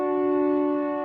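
A pipe organ holds a single sustained note on a soft, quiet flute-like stop, heard alone and steady throughout.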